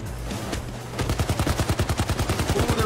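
Gunfire in Payday 2: a brief lull, then a rapid, steady burst of automatic shots rattling on loudly and evenly for about two seconds, with no voices over it.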